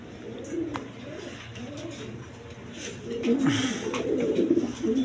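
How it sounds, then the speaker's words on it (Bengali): Male Rajgolla pigeons coo repeatedly in a bird enclosure, soft rolling calls recurring throughout and growing a little louder toward the end, with some faint background noise. "নর বহুত ডাকে, সারাক্ষণই ডাকে"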